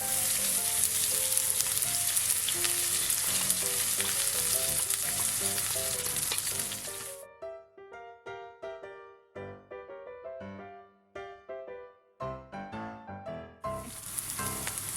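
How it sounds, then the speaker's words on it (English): Garlic and red onion fry in hot oil for a prawn and bitter melon sambal, a loud steady sizzle for about seven seconds, then a patch of clinking and stirring, then the full sizzle returns. "The oil is ready, hot now, so we put garlic first and red onion."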